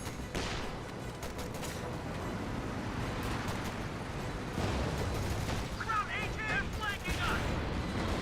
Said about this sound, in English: Smoke coming in from the US mortar